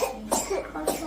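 A child coughs twice in quick succession: short, raspy, close-up bursts with a slightly voiced, throaty edge and a brief pause between them.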